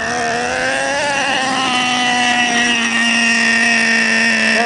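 A Traxxas Revo RC car's engine is throttled up, a loud, buzzy, high-pitched whine that holds steady with slight pitch wavers and a small rise as it revs, with no talk over it.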